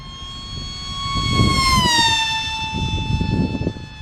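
A fast FT Arrow RC plane on a 4S battery with SunnySky 2207 2100kv motors makes a downwind pass, its high motor whine rising as it approaches and dropping in pitch as it rushes past, with wind buffeting the microphone.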